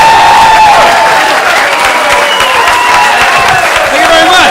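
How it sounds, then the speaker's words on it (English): A Boston comedy club crowd applauds and cheers as comedian Chris Zito takes the stage, loud sustained clapping with voices and shouts mixed in. "Please, a nice round of applause, Mr. Chris Zito."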